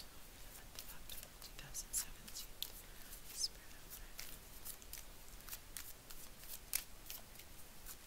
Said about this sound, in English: I think this is going to be my last one more shuffle